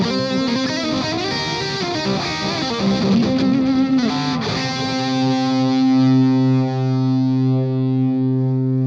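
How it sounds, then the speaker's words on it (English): Distorted electric guitar through a Friedman BE100 amp plugin with delay engaged: busy, gritty playing gives way to a sustained chord whose repeats ring on and slowly fade. "So let's check out the delay."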